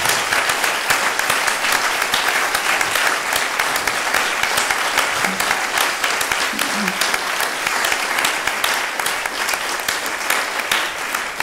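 A seated audience applauds the organizing team of a two-day gathering, a loud, dense and sustained round of clapping with a few scattered voices mixed in.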